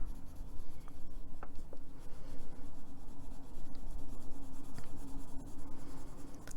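Inktense colored pencil shading on paper, a steady close scratchy rubbing that continues without pause, with a few small taps as the pencil moves, and no talking.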